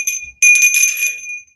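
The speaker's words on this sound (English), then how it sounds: "I am being drawn to ring the bell." A single bell is struck and rings with a bright, sustained metallic tone, close and clear, fading over about a second in an otherwise quiet space.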